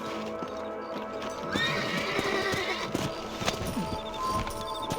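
A horse whinnies nearby while hooves clop steadily over a busy outdoor background with scattered clicks, in the video game Red Dead Redemption.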